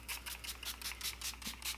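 A rapid series of soft, hissing spray bursts of setting spray misted onto a face, about ten quick puffs in a steady rhythm, close and quiet.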